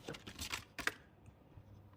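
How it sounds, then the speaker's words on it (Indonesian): Random keys are tapped on a computer keyboard in a Linux server lab, a few quick close clicks in the first second, then quieter room tone with faint scattered taps. "kita menekan huruf sembarang di keyboard"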